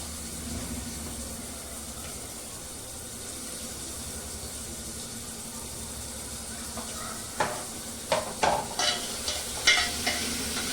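Tomatoes go into onions frying in a pan, giving a steady hiss of frying throughout. Near the end a quick run of clattering utensil knocks and scrapes sounds nearby.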